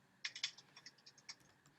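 A search is typed on a computer keyboard, a quick irregular run of about a dozen soft, close key clicks against a quiet background.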